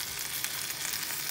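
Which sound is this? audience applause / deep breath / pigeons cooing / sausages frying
sausages frying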